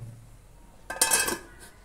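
A metal lid clinks onto a pot of simmering crab gravy, a brief ringing clatter over quiet kitchen background.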